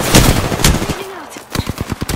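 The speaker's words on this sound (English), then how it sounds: "I'm taking fire, friends." Rapid automatic gunfire in the Apex Legends battle royale game, loud bursts of repeated shots at the start and again in a quick volley near the end, with a brief lull between.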